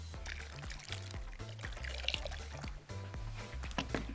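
Boiling water pours into a pan of kofta sauce with spices, paprika, salt, pepper and pomegranate molasses, a steady close liquid stream with faint trickles, no talk.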